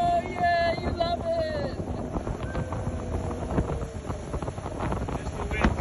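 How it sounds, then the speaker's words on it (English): Wind buffeting the microphone during a boat ride on open water, a steady rushing roar with gusty swells, mixed with boat and water noise; a brief tonal whistle early on, and faint voices in the background. "There's the wind striking a little bit."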